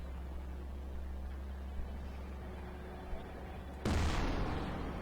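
A 60T main battle tank's cannon fires in GMod: a single sudden loud boom breaks over a steady low engine rumble and then rolls away.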